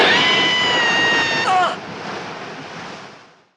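Ocean surf in the 1971 film Play Misty for Me, a loud rushing wash of waves layered with a high tonal cry that cuts off, then a softer surge fading out toward silence.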